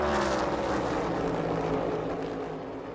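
NASCAR Cup Series stock cars racing at Pocono: a loud, dense engine roar with a steady droning pitch passes close by and fades slightly over three seconds, with no voices.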